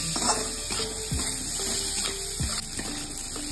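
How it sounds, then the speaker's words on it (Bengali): Bengali pumpkin curry (kumro boti) stirred in a pan over high-to-medium flame, with soft sizzling and repeated scraping knocks of the spoon against the pan in an irregular rhythm. "আমি এটাকে আবার 3 মিনিটের মতো হাই টু মিডিয়াম ফ্লেমে নাড়াচাড়া করে নিচ্ছি"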